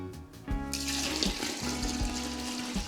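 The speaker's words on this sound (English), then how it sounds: "And now we will pour the water here to our crushed chokeberries." Water pours from a container onto crushed chokeberries for fruit wine, a steady gushing splash after a brief quiet start, close and continuous with no talk.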